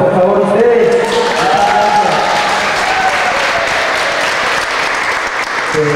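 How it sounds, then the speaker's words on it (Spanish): A class audience gives a loud, sustained round of applause with crowd noise and some voices mixed in, dense clapping filling the whole stretch. "Dense un fuerte aplauso, por favor, ustedes."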